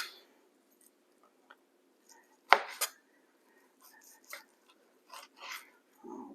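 A knife trims fat off a raw steak for fajitas on a cutting board, giving a few isolated sharp taps and scrapes in an otherwise quiet kitchen.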